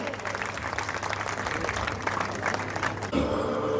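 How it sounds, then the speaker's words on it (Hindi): Audience at a school evening event applauding to welcome performers of a short play, a loud sustained crowd clapping that cuts off near the end as voices and a new sound take over. "तो जोरदार तालियों से इन कलाकारों का स्वागत कीजिए।"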